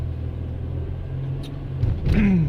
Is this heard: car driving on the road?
yes